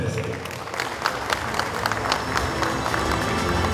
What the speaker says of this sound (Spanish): El aplauso de los presentes.